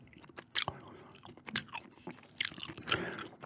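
Gum chewing close to the mic: wet, smacking bites and soft crunches come in irregular bursts, loud and intimate, with no talking.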